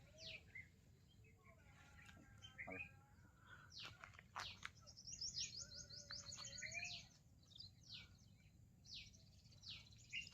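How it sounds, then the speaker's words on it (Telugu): Small birds, likely sparrows, chirp and tweet in a rural village setting, with scattered short calls and trills at moderate distance over faint background noise. "ఇప్పుడు మీరు ఒకసారి చూడవచ్చు ఈ పిట్టలు అనేది సౌండ్ గిట్ వస్తుంటుంది మీకు."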